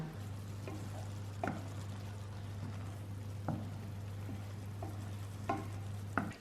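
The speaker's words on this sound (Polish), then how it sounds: "I zaraz się biorę za smażenie cebulki i pomidorów." Onions and tomatoes frying in butter in a pan, a continuous low sizzle with occasional sharp clinks and scrapes of a utensil stirring, close by with no talking.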